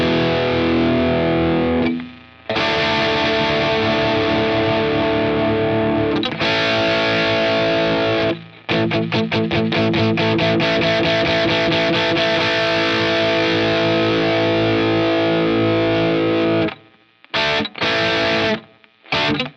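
Electric guitar through the Positive Grid RIFF on its American Dream amp setting, loud distorted chords and rapid chugging palm-muted riffs with short gaps between phrases, close and alone.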